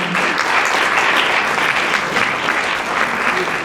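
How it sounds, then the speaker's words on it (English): Audience at an evening James Baldwin centennial celebration event applauding a guest, a dense, steady round of clapping from a sizable crowd that carries through without pause. "Another round of applause for Kevin."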